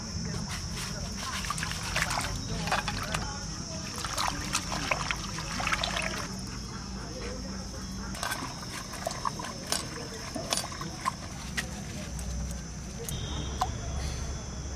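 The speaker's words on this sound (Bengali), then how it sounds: "পাতাটা ধুয়ে নেব।" Leaves being washed in water before cooking: continuous splashing, trickling and dribbling close by, with clattery handling sounds throughout over a steady background hiss.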